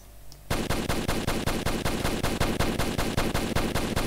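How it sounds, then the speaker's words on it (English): An assault rifle fires full-auto in a video game after a brief quiet moment. The burst is loud and sustained, with fast, evenly spaced shots hammering away close up and no voices over it. "Assault rifle."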